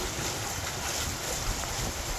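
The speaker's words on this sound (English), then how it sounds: "it'll be a pleasure getting out of this wind" Steady wind buffeting a boat on a Trent–Severn Waterway trip between Hastings and Percys Reach, a constant broadband rush and microphone rumble with no voices, loud and unbroken throughout.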